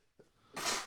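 A single sneeze during a tabletop wargaming podcast, a brief faint intake followed by a loud, breathy burst that fades quickly, alone without speech.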